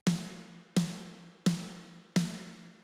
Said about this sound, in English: So here I have a snare drum.